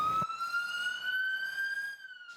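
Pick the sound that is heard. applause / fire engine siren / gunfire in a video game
fire engine siren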